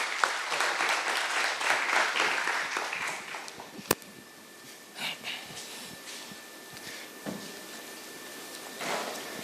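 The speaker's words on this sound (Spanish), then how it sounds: "Le pido un fuerte aplauso" An audience at a Costa Rican forestry talk gives a speaker a soft round of applause that fades after a few seconds. Scattered faint clicks and breaths follow in a quiet room.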